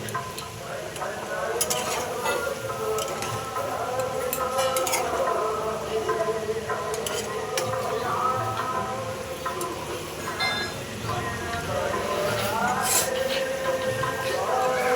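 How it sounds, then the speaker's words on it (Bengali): Fried paneer stirred in a cooking pan for a vegetarian chana paneer dish: steady scraping and clinking of a spoon over a constant sizzle, close by, with a voice talking over it. "ভেজে রাখা পনিরগুলোকে দিয়ে দিচ্ছি। তো পনিরগুলো দিয়েও একটু নাড়াচাড়া করে নিচ্ছি"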